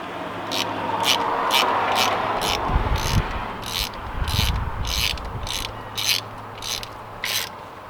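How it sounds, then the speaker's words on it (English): Ratchet wrench loosening the intake manifold fasteners on a BMW F30 335i, a rhythmic series of clicking pawl strokes about twice a second over low garage rumble, close and clear, no speech. "Take those fasteners off, pull the manifold back."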